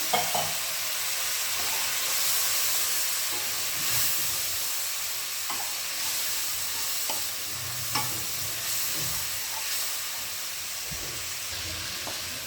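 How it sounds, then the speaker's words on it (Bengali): Spices for a curry with prawns and arum root fry in a pan after a splash of water, giving a loud continuous hissing sizzle with scattered stirring scrapes throughout. "এবার একটু জল দিয়ে দিলাম মশলাগুলো কষার জন্য।"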